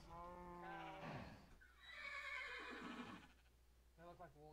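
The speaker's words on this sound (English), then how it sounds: "These horses are mo creatures." Horses from the Mo' Creatures mod neigh in a Minecraft mod pack game, a couple of drawn-out whinnies, fairly close and clear, with a voice talking between them.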